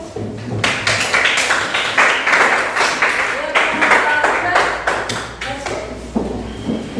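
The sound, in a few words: audience applause after a presentation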